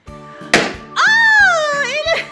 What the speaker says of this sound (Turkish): Turuncu balon patladı.